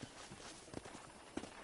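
Horse hooves clip-clop quietly at a steady walking pace while riding in the video game Red Dead Redemption, with soft, regular thuds close by against a low background.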